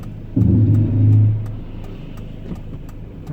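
A diesel Land Rover Freelander engine pulls under acceleration, a loud, close rumbling surge that swells and then settles into a steady drone inside the car.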